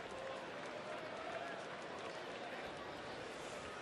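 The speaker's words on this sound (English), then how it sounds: "a fairly sizable crowd giving him a nice standing ovation as he walks off to the Ranger dugout" A sizable baseball crowd at a Texas Rangers home game gives a sustained standing ovation, a steady wash of applause and cheering heard from a distance under a broadcaster's voice.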